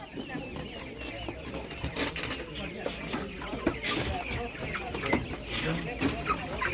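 Broiler chickens cluck at a busy livestock market, a steady mix of clucks and bird calls running under constant crowd chatter and nearby talking voices.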